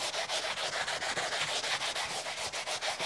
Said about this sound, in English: I'm just kind of polishing with a drier part